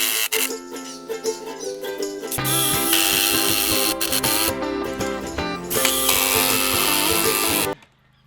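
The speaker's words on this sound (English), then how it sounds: "I'm just using my impact driver to drive those batten screws in" An impact driver drives batten screws into a round post outdoors, loud rapid ratcheting hammer bursts with brief pauses between runs, close and alone.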